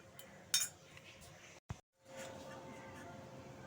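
A metal bowl used for birthday payesh being washed, with a sharp clink and clatter of metal followed by faint rinsing noise, close and brief, and a voice talking quietly underneath.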